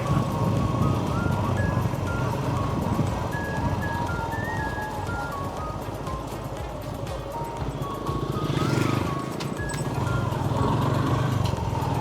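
A motorcycle rides along with a steady engine drone and broad road and wind noise throughout, loud and close, with a slight swell in the middle and no talk over it.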